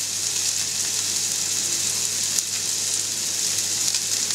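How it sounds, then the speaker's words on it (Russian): Filet mignon steak sizzles steadily in a hot pan, a constant dense frying hiss with no speech over it. "Обжариваем также на второй стороне 2 минутки."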